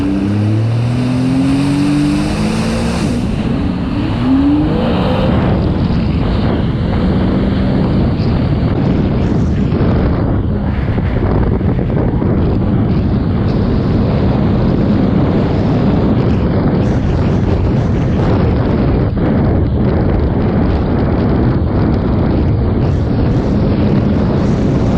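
A 2012 Sea-Doo RXP-X 260 personal watercraft at speed, its engine a loud, steady roar mixed with rushing water and wind blast, rising in pitch briefly at the start.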